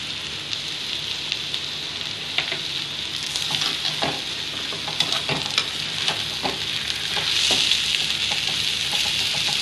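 A potato, paneer and pea stuffing with raisins roasts in a hot pan, giving a steady crackling sizzle punctuated by repeated spatula scrapes and taps. The sizzle grows slightly louder toward the end, and no one speaks.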